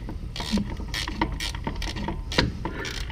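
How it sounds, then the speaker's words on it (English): Ratchet wrench working a shock absorber bolt loose on a Jeep during a Mopar Performance 4-inch lift kit install, giving a steady run of close mechanical clicks and metallic ratcheting with a few sharper knocks. "let's get this shock off so we can replace those with our fancy new Fox Racing shocks."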